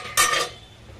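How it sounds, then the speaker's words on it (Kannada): A spoon scrapes and clinks once against a pan while vegetable pulao ingredients are mixed over a lowered flame, a single short metallic stroke close by with no talking. "ಈಗ ಫ್ಲೇಮ್ ಕಮ್ಮಿ ಮಾಡಿಬಿಟ್ಟು ಎಲ್ಲ ಒಂದ್ಸಲ ಮಿಕ್ಸ್ ಮಾಡಿ."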